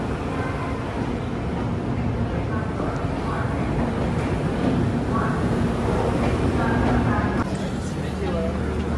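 A train arriving at a station in India, a constant loud rumble and rattle of the carriages with platform noise, while people talk over it.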